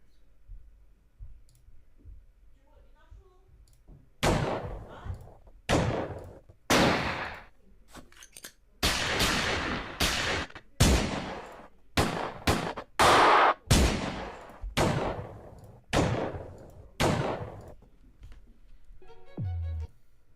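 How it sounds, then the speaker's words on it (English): Gunshot sound effects fire one after another, a series of sharp, loud bangs with short decaying tails, irregularly spaced over a quiet background, closing with a brief electronic tone. "the other option's a gun sound. Like a gun shot."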